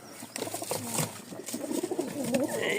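A pair of tumbler pigeons coo softly and close by. Someone talks over the short, low, throaty calls.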